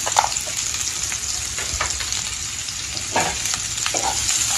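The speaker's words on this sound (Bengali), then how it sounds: "এখন একটু ভেজে নিব, বেশি ভাজবো না, একটু হালকা করে ভেজে নিব" Spices with salt and turmeric frying lightly in a pan, a steady close sizzle broken by scraping stirs throughout, with no talk.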